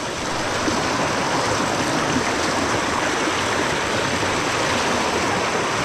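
River water rushes and splashes steadily, a dense, continuous flowing sound close by with no voices.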